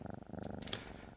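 A petted cat in the video game Moonlight Peaks gives a short stretch of soft, pulsing purring, faint and even throughout.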